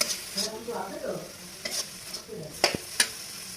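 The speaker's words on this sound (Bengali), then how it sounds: "একটু জল দেবো মশলাটা কষানোর জন্য।" Spice paste fries over a low flame in a pan with a splash of water, giving a soft sizzle while a utensil scrapes and taps the pan in a few brief, sharp strokes.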